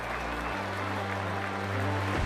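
A packed crowd at a The Hundred cricket match between Manchester Originals and Southern Brave claps and cheers in a steady, continuous roar of applause, swelling slightly toward the end.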